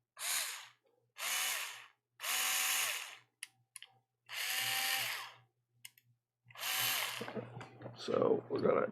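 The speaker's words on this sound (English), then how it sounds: "we're gonna come in here with our little cutter bit" A small handheld rotary tool fitted with a little cutter bit whines in several loud, steady bursts of about a second each, separated by short pauses and clicks, close up, with some handling noise near the end.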